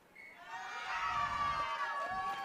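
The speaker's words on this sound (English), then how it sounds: "You're going to hear the crowd yell when this goes." At a team dart match in Las Vegas, a crowd yells and cheers, swelling quickly and holding steady, heard from a distance as a broad roar.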